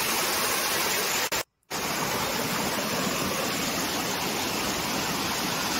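A forest stream swollen after rain rushes steadily, a loud continuous broadband roar of flowing water with one very brief dropout early on.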